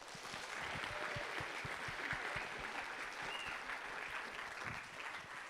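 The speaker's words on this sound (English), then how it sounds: "please, if you can give yourselves a huge round of applause" A large crowd at a robotics championship event gives a long round of applause, steady and fairly distant, with scattered louder claps and faint whistles in the mix.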